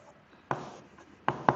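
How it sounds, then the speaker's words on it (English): A pen writing out a step by hand on paper, making short close scratching strokes. Three distinct scrapes in quick succession sound over a quiet background. "I will write down the fourth step,"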